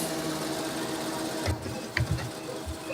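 Tractor pulling a mulcher in Farming Simulator 17, a steady mechanical engine drone running throughout with a few low thumps and knocks toward the end, no talk over it.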